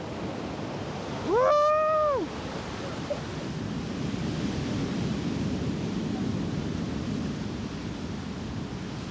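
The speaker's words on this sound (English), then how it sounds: "You have the sound of the waves and the wind." Ocean waves and wind on the Cape Verde coast make a steady, broad wash of surf and gusting air. Early on, a short, high, wavering call rises briefly above the roar.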